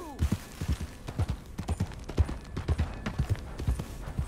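Rhythmic clip-clop of horse hooves at a steady walking pace in the video game Red Dead Redemption 2, fairly close and loud, with faint background sounds.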